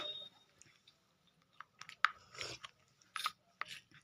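Crunchy Kurkure snacks are chewed close up in quiet, irregular bursts of crisp crunching and clicking, separated by short near-silent gaps.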